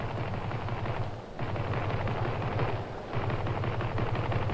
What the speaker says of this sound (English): Craft firing ahead! Launches.